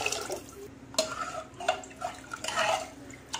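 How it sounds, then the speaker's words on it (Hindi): Water being poured into a pressure cooker pot of soaked dal and rice with salt for khichdi, splashing and clinking of the metal pot in short close bursts, no talking. "इसमें डालूंगी पानी."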